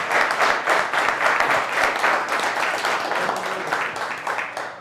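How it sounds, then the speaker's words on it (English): Crowd applause at a business event about AI, steady sustained clapping from a sizeable audience that tapers slightly toward the end. "So give a big round of applause to Sarah real quick as she comes up."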